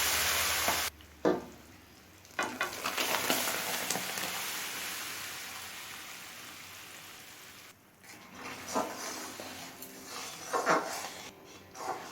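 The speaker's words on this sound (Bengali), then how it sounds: "ফোড়নটা লাল করে ভেজে নিয়েছি" Panch phoron spices tempered in hot oil for matar dal, a loud crackling sizzle that cuts off briefly, then returns as softer uneven frying with occasional stirring.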